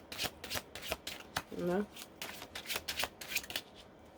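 Tarot cards are shuffled in quick repeated riffles and flicks, close and moderately loud, with a brief spoken sound in the middle.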